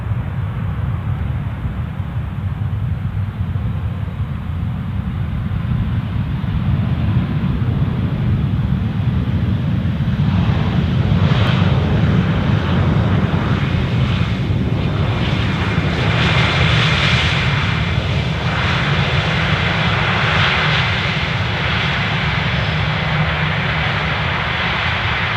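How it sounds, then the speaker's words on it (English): A British Airways airliner at Amsterdam Schiphol Airport produces a loud, steady engine roar that swells and holds for a long stretch, with no voices heard. "Ah, good old British Airways."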